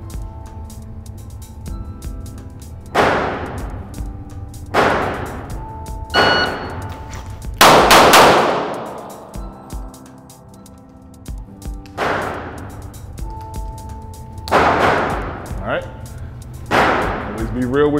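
Handgun shots in a three-round shooting qualification drill fired from a bent-elbow start, several sharp loud cracks in quick bursts with pauses between strings, and a voice talking in the gaps.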